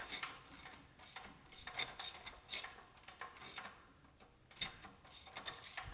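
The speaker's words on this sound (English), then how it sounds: "I'm going to go ahead and just remove these bolts all the way now." A ratchet clicks in quick, repeated strokes as bolts are backed out of a Farmall Super H tractor during restoration, the bursts of ratcheting coming in uneven runs, close but fairly quiet.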